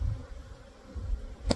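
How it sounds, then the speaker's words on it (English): Agitated honeybees swarm around an opened hive during a fall inspection, producing a low, fluctuating buzz that rises and falls. The bees sound fairly faint and close, and a brief sharp tick occurs near the end. "The bees are starting to get a little more riled now"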